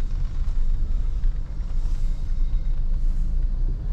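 A car engine rumbling low and steady from inside the cabin as the clutch is slowly released, a continuous close drone with no talk.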